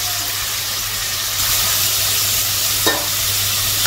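Fish frying and being stirred in a pan, a steady close sizzle with hiss throughout, slightly louder partway through and with a brief scrape as it is stirred.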